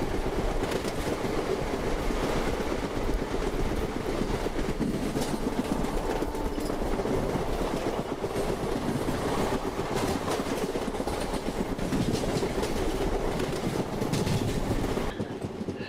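An Indian express train of ICF coaches crosses on the rails after a station, giving a loud, continuous rumble with rhythmic clickety-clack that holds steady for the whole stretch before easing slightly at the end.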